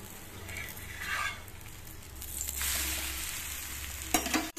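A green gram (moong dal) dosa fries in sesame oil on a hot pan just after being flipped, giving a steady close sizzle that swells slightly and ends with a brief metallic scrape.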